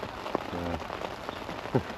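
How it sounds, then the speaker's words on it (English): Heavy rain drumming steadily on a carp-fishing bivvy at a lakeside pit, a dense close hiss of drops with occasional louder splats, continuous throughout and without speech. "as you can hear, tipped it down non-stop"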